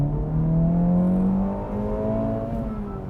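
Inside a 2024 Acura Integra Type S, the engine drones steadily as the driver drops down a gear, a rising then settling tone heard from the cabin, fairly loud and with no talking.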